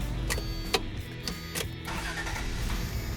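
An old truck bought for $500 and repaired, its engine idling close by with a steady low rumble and a few rhythmic mechanical ticks and clacks on top.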